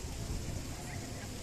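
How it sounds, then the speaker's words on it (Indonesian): Steady hiss of rain falling through a forest near Probolinggo, a dense even wash of drops without pauses, moderately loud throughout. "Kita diterjang hujan."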